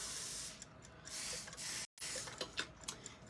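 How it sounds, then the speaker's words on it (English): Several close hissing bursts from a spray bottle, each a short misty spritz, separated by brief pauses and faint handling clicks. "So I'm going to just spray it with regular water."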